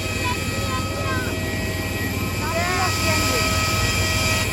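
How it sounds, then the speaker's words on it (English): A loud, steady engine roar from an IndiGo airliner fills the scene, with a high whine layered on top and brief chirping tones drifting through. "airplane is so loud"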